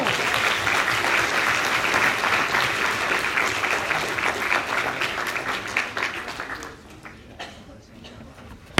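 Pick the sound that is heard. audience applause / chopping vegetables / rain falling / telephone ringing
audience applause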